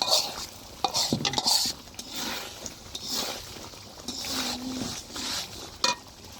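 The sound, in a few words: spices being sautéed in a pan for duck curry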